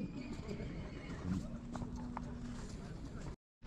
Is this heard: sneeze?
no